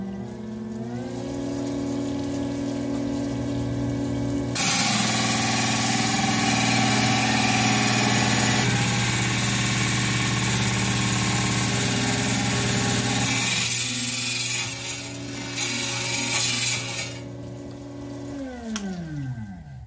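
A Hi-Tech Diamond 6-inch trim saw motor hums steadily, then a loud, dense grinding wash rises as the diamond blade cuts through stone for about twelve seconds. The noise eases off and the motor winds down at the end. No one speaks.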